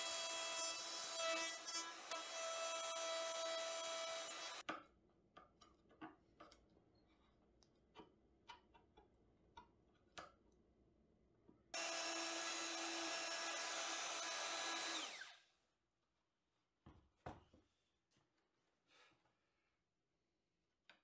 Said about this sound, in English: Then I use the router, using the same router bit as before, to remove the glass from the recess area